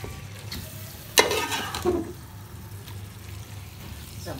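Mixed vegetables with dried fenugreek stirred in a hot pan, a close sizzle under a sharp scrape of the spoon followed by a few softer stirring strokes.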